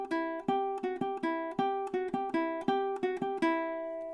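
A ukulele is alternate-picked through the first measure of Carol of the Bells, a quick, even stream of bright plucked notes that ring clearly and close up, with no voice over them.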